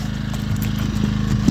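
A small carbureted generator engine runs steadily with a low, rumbling chug, close by and constant throughout the short stretch.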